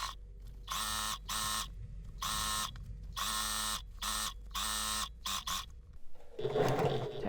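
A home sewing machine stitches a corduroy long dress in several sustained bursts with short pauses, a loud, close mechanical whir, followed by a brief rustle of fabric handling at the end.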